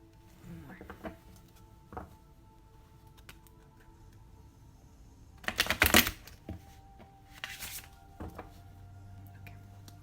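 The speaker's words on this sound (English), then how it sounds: "Any more shuffles?" Tarot cards are shuffled during a channeled reading, quiet near riffles with a louder rapid flurry around the middle and another short burst later, set against faint soft talk.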